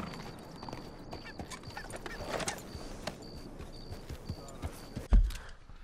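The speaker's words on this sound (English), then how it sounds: "Pasa que se asusta el caballo." Horse hooves clip-clop at a steady walking pace in Red Dead Redemption 2, joined by a faint repeating tone. A sharp thump comes near the end.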